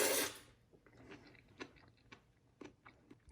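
Crunchy vegetables from a bowl of Luosifen river snail rice noodles are chewed close to the mic, a soft run of separate crisp bites and crunches after a brief loud rustle at the start.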